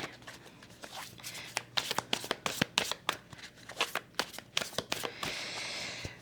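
Tarot cards get shuffled and drawn with a run of crisp riffling snaps and slaps, close and fairly loud, ending in a softer papery rustle.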